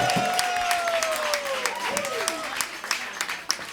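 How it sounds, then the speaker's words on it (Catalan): An audience in a social club breaks into sustained applause for a performer after a band session, a steady wash of clapping carrying on under a loud voice talking over it. "Un aplaudiment pel Pep."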